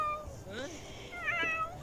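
A cat meows twice in The Sims 4, short rising cries near the start and end over light game background sound.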